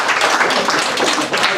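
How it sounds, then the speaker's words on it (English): Comedy club audience at a stand-up show at the Crown Inn clapping in a steady, dense round of applause that fills the whole moment, close and continuous. "Round of applause for you."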